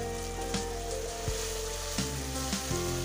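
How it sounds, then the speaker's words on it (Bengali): Tomato with ground spice paste and onion-garlic paste fries in a pan, a loud steady sizzle with a few scraping stirs breaking through at intervals, no voices. "টমেটোটাও একটু ভেজে নিচ্ছি। এবার বাটা মশলাটা আর পেঁয়াজ রসুন বাটাটাও দিয়ে দিলাম।"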